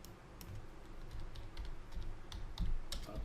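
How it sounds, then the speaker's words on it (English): Typing on a computer keyboard, a soft run of irregular close key clicks and taps at a low level, with no talking. "So what I will do is I'm going to type in here crypto."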